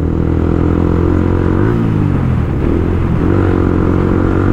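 A motorcycle's exhaust revs loudly and close by. The engine holds a steady deep rumble, dips briefly and then climbs again, with no voices over it.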